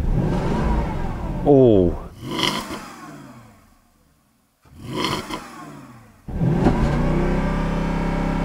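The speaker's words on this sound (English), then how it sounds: "listen to this V8 in the Porsche Cayenne" A Porsche Cayenne V8 with an airbag fault, running without oil, fires up and revs hard in loud bursts with a short quiet gap between them, ending in a sustained roar. A brief exclamation comes near the start.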